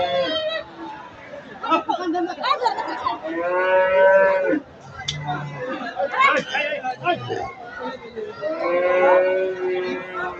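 Cattle at a busy livestock market low in several long, drawn-out moos, loud and close, with crowd chatter and someone talking throughout.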